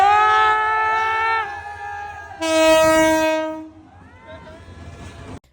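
A train pulls into a crowded station on the Narsingdi to Sitakunda route, sounding a loud, long horn blast over the rumble of the cars, with crowd noise beneath.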